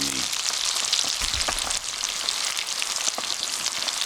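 Grayling fish sizzle and crackle steadily in a hot pan, a dense, even frying hiss with small pops throughout.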